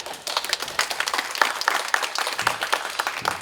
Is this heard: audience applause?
yes